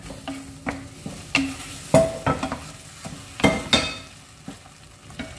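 Prawns fry in a pan with a soft background sizzle, broken by a series of sharp, irregular scrapes and clinks as a utensil stirs them against the metal.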